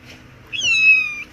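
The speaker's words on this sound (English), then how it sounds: "this is the noisy little kitten named Magua" A noisy little kitten named Magua lets out a single clear, high, drawn-out meow, close and alone in an otherwise quiet room.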